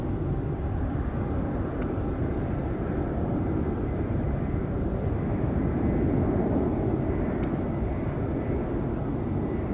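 A Southwest airliner takes off at SFO, heard as a steady, moderately distant jet-engine roar that holds for the whole stretch with no voices.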